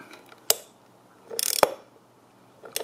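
Ratcheting wrench clicks as an 8mm bolt on a Yamaha XSR900 motorcycle's rectifier guard is worked loose: a sharp click, a brief burst of rapid ratchet clicks, then another snap, close and alone.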